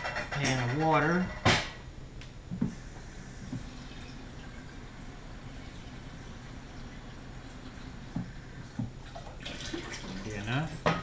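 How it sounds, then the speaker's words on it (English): Tap water runs into a kitchen pan in a steady, close gush, with a few clanks and handling noises at the start and end of the fill. "Pan of water."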